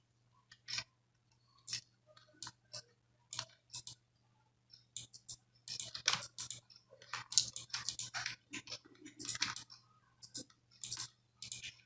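Computer keyboard keys click in short clusters and bursts, sparse at first and then faster and denser, close and fairly quiet, with a faint steady hum underneath and no voices.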